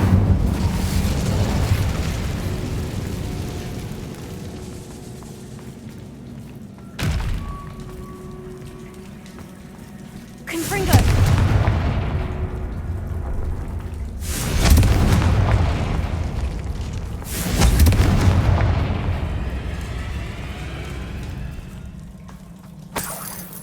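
Fiery spell bursts from the Incendio charm in a Harry Potter video game, three or four loud whooshing blasts in succession over a low ambient hum, each flaring suddenly and fading over a couple of seconds.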